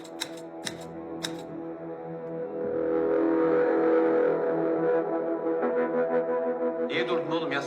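A typewriter clacks out a court statement in a courtroom, with a few sharp, isolated keystrikes at the start before a loud, sustained droning tone swells in and fills the rest.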